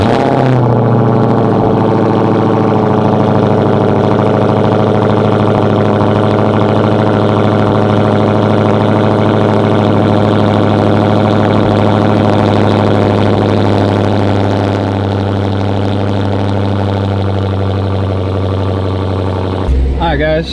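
Car engine idling steadily after a 180-degree thermostat install, a loud, close, even rumble with a constant low hum that continues unchanged for about twenty seconds before a brief shift at the end.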